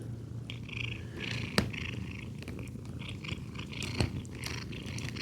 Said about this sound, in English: We got some crazy kitties on our hands.